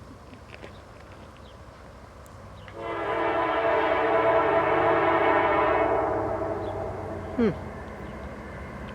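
A westbound freight train sounds a long, loud multi-tone horn blast for about three seconds. Rolling rail noise continues underneath, and a short sharp sound follows near the end.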